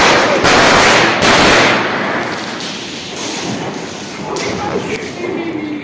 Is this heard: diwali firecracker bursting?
yes